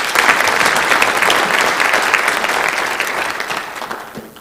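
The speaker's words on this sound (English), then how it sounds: "I'd like you to give a nice applause for Chris MacArthur" A church congregation applauds for guest Chris MacArthur during a service, a dense, steady clapping that stays loud throughout and tapers off slightly at the end.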